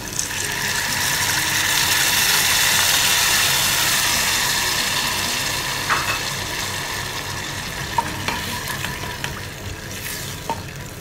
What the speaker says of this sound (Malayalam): ഇനി ഇതിലേക്ക് നമ്മളെടുത്ത് വെച്ചിട്ടുള്ള പുളി ഉണ്ടല്ലോ, അതിൻ്റെ വെള്ളം ഒഴിച്ചു കൊടുക്കുക